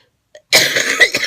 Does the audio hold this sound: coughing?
yes